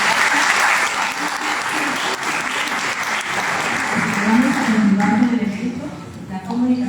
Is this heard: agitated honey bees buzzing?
no